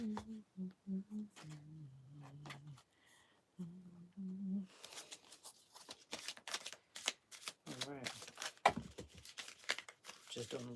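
Brisk riffling and slapping of tarot cards being shuffled, quick bursts of papery flicks following a stretch of speech.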